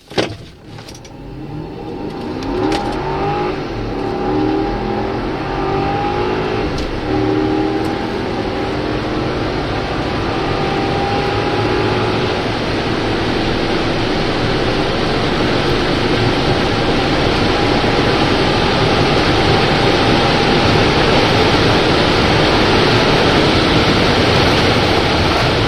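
A Porsche Cayenne Turbo accelerates hard, its engine and road noise swelling into a sustained, steadily building roar heard from inside the cabin, with no talk over it.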